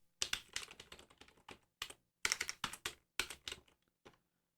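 Close, crisp computer keyboard typing comes in several quick bursts of keystrokes separated by short pauses, with near silence between them.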